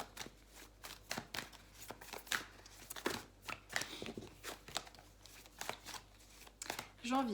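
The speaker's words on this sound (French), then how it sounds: "je voulais tirer une carte du tarot aussi pour résumer janvier" Tarot cards are shuffled in quick, uneven bursts of riffling and slapping, close and fairly quiet, with faint talk in the background.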